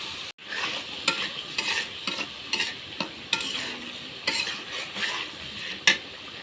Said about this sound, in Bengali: এখানে আমার শুটকি কষানো শেষ।